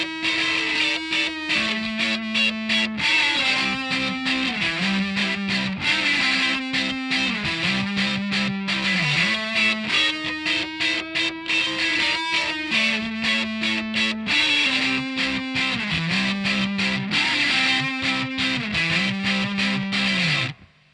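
A distorted electric guitar plays the B section of the bridge of a song, a loud, continuous driven riff with a repeating bending lead line over steady chugging, with no voices.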